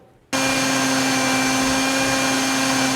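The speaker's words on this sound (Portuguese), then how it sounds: "volta de novo para o liquidificador" A kitchen blender starts abruptly and runs at a constant loud whine, mixing a batter of flour and salt, with a steady motor hum and no voices.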